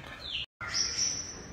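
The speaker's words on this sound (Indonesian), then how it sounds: "dia itu berisik banget nih burung" Shrill bird chirps and twitters sound nearby, cut by a brief gap of silence, then more high, bright calls over faint background noise.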